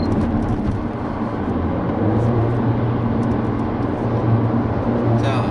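A 2016 Mercedes-AMG A45 4Matic cruising in comfort mode: a steady, loud engine drone and road rumble fill the cabin without letup, with a low hum held underneath.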